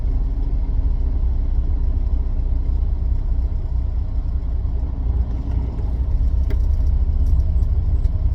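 A semi truck engine runs steadily, a loud, continuous low diesel rumble that stays even throughout with no talk.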